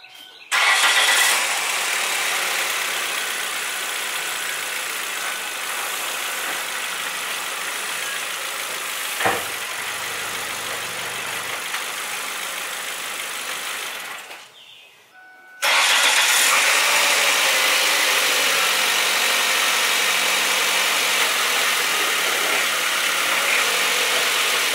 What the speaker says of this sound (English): Now let me start the car, put it in gear, let's see the difference.